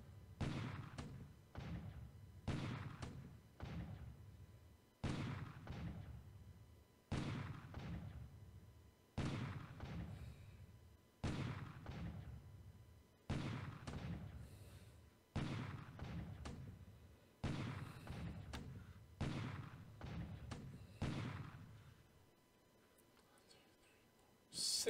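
Naval bombardment from six heavy cruisers in a WWII Pacific war strategy game, Japan versus Allies in 1942: a loud, steady run of about nineteen heavy booms, each a deep thud with a ringing tail, roughly every second, no talk.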